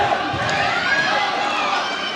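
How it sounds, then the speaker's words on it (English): A wrestling crowd at a Milton versus Oregon match roars steadily, urging the referee to count the pin; the sustained cheering is loud and dense, with no voice standing out clearly. "The crowd is calling for the pin to the ref"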